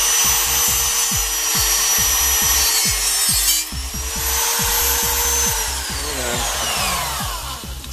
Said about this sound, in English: I'm going to just kind of pretend drill a hole